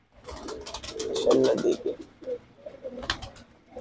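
Pairs of fancy Khal and Sirazi pigeons in a breeding loft coo in low, throaty rolls over a few seconds, close by, while someone speaks briefly over them.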